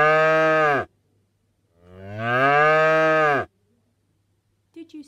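Two long, loud cow moos, close and clear with a gap between them, followed by a faint brief sound near the end.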